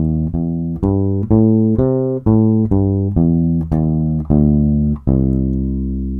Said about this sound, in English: And that's just known as a major blues scale